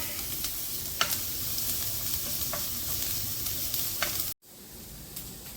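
Onions and spices stirred and sautéed in a pan for green peas kurma, a steady close sizzle with scattered spoon scrapes against the pan, broken by a brief cut near the end.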